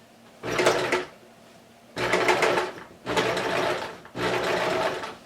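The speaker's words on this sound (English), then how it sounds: "Start where you left off with the last thread. And sew it." A sewing machine stitches the elastic waistband of a rectangle skirt in four loud close bursts of rapid whirring, each about a second long, separated by short quiet pauses.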